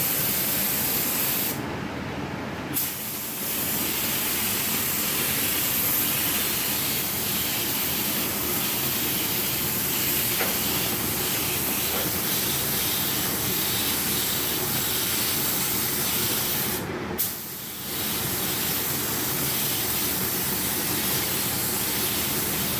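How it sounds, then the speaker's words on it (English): Continuous loud hiss of an aerosol primer spray can, running steadily with two brief cutouts where the spray sputters and resumes, during restoration of a 1942 Farmall H tractor. "it'll start spraying again once it gets the air pocket worked out."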